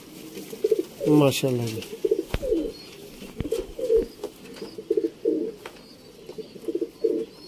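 Rampuri pigeons at a Sialkot breeder's loft coo in repeated soft, low bursts, close by and fairly quiet, with a brief spoken remark near the start.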